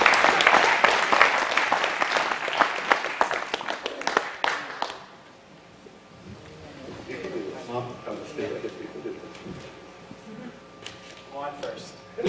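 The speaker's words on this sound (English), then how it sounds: "Let's give them a round of applause." A church congregation at a prayer service breaks into lively applause for about five seconds; the clapping then dies away into a quieter room with some talking.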